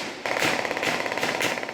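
Rapid bursts of heavy machine gun fire crackle in quick succession, harsh and continuous, with no voices.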